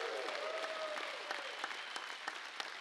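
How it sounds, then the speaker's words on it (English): A church congregation claps and applauds, a steady wash of hand clapping with a few sharper claps standing out and a brief voice near the start, moderately distant. "Someone give him a hand clap and a shout of praise."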